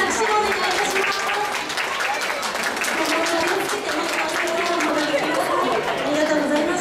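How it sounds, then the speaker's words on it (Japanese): Audience applause at a Hawaiian-themed dance show, dense and continuous clapping mixed with crowd chatter and voices. "皆さん大きな拍手をお願いいたします。"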